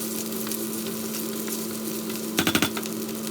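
Steady sizzling of onion and tomato paste frying in a pot, with a brief burst of stirring and scraping near the end.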